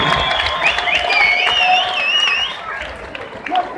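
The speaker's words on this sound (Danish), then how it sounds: "vi skal have lidt gang i vores hænder og give dem et kæmpe bifald her ved indgangen til tredje og sidste omgang" At a 2016 fight night in Herlev, a large crowd applauds and cheers before the third and final round, with sustained clapping, shrill whistles and voices blending into a loud, continuous roar.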